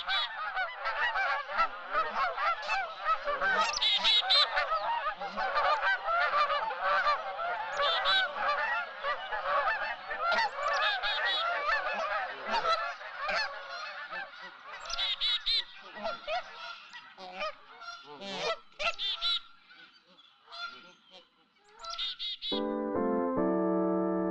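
A flock of geese honks loudly and continuously in spring territory season, dense overlapping calls from several birds near and far, with a brief lull before the honking resumes.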